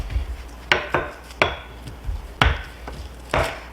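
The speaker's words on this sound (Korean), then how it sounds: "이렇게 밀대로 밀어주시는 거예요" Rice cake dough being worked with a rolling pin over a plastic sheet on a board, giving repeated soft thumps and scraping pushes in an irregular rhythm, close and fairly clear with no talk.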